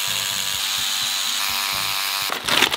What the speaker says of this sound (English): Power scrubber.